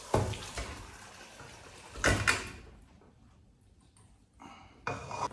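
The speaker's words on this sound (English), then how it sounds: "And we got to get these strained, get that water up off of them." Water poured off boiled potatoes to strain them in a home kitchen while cooking Thanksgiving dinner, heard as a couple of short splashing pours followed by quieter rattling and one more brief burst near the end.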